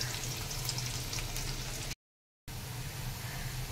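Onion frying in oil with garlic and chili in a pan, a steady close sizzle with a brief silent gap partway through.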